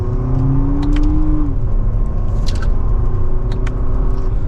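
A 2024 Lexus TX350 AWD accelerating in manual mode from second gear, heard from inside as a steady engine drone that rises in pitch and then shifts down after an upshift, with road rumble and a few faint clicks.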